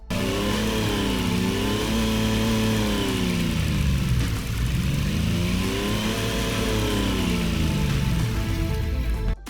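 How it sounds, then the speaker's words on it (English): A cheap 31-horsepower car engine in BeamNG Drive revs up and down repeatedly, its buzzy, lawnmower-like tone rising and falling in pitch across several sweeps, loud and close, with no talking. "Let's hear what this car sounds like."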